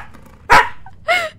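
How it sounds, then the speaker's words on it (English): A pet dog barking during a livestream, with two sharp, close barks about half a second apart over quiet game sound. "This is the chaos that is my dog on this stream."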